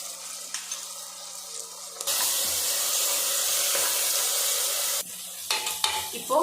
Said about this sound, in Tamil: இப்போது இஞ்சி பூண்டு பேஸ்ட்டு பச்சை வாசனை போகிற அளவுக்கு வதக்கியாச்சு